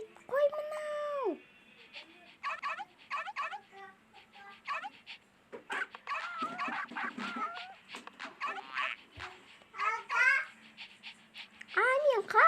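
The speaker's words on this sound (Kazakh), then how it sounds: "Ит қой мынау!" A dog yelps and whimpers in short bursts, close and fairly loud, while excited children's voices talk over and around it.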